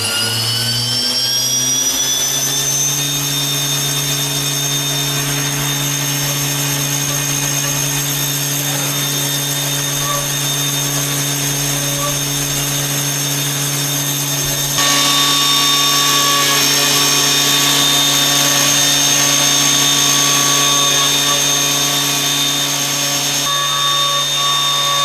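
A milling machine rounds the edge of a golf course tee marker, spinning up then holding a loud, steady high-pitched whine with a tonal cutting hum throughout, no voices.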